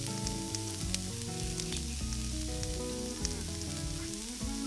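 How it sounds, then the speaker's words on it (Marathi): Shepu (dill) vadi frying in hot oil over medium heat, a steady, close crackling sizzle that runs throughout with no talking. "आपण तळून घेऊया मिडियम आचेवर आपण तळून घ्यायचे तेल गरम झालंय छान खरपूस तळून घ्यायचे"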